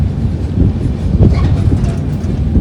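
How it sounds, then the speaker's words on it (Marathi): A WDG3A diesel locomotive rumbles nearby on a hot day, with a loud, steady low-pitched engine drone and a few faint metallic ticks over the top. "हे डिझेल लोकोमोटिव्ह WDG3A"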